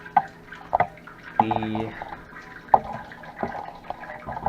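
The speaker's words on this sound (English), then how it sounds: "Just starting to sparge now. I haven't started adding the water in yet. I'm going to let this drain." Home-brewed wort drains during the sparge for a hop-heavy IPA, with scattered drips and splashes of liquid falling at an irregular pace, plus one brief tonal clunk, heard close and fairly quiet.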